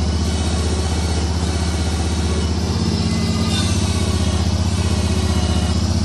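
A John Deere 400 garden tractor with its mower deck fitted runs steadily at idle nearby, a continuous low engine rumble with no talk over it.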